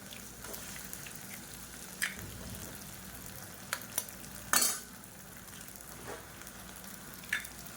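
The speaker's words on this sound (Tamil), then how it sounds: "சேர்த்துட்டு லைட்டாக அப்படியே பரட்டி விட்டுக்கலாம்" Eggs and onions stir-fry in a pan, with a steady close sizzle broken by occasional scrapes and clinks of a spatula against the pan.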